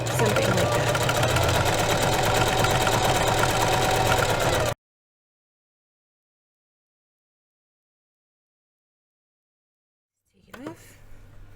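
Sewing machine topstitching a quarter-inch hem on a Barbie doll dress, a fast, steady, close mechanical whir for several seconds, then stopping into silence before faint handling noise returns.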